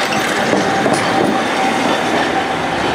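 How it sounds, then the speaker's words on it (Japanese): A streetcar near Sumiyoshi Taisha shrine rolls past close by, a loud, steady rumble of wheels on rails with a faint metallic squeal running through it and no talking. "路面電車です。"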